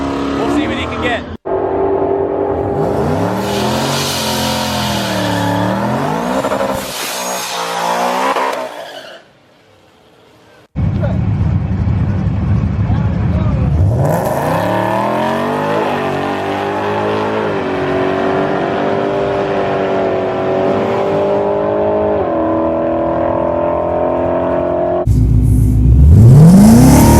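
A 650 wheel-horsepower Ford Mustang makes a drag racing run at the track: loud engine roars and revs in rising pulls, drops out briefly, then surges again up close, with voices talking over it.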